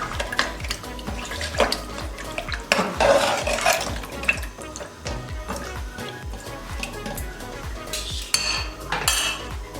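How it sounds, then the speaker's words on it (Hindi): Mutton chops with ginger-garlic paste, salt and water stirred in a pressure cooker, repeated scraping and clinking of a spoon against metal with wet sloshing, steady and close. "तो अच्छे तरीके से मिक्स कर लेंगे"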